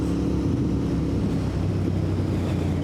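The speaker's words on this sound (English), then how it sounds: "it's windy on here" Strong wind buffets the rider's microphone on a Royal Enfield motorcycle ride through back lanes, a loud constant low rumble and roar without pause.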